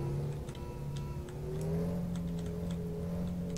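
Heavy truck engine drones steadily in Truck & Logistics Simulator, its pitch climbing and holding as the wheels spin without grip, with faint ticking on top and no talk.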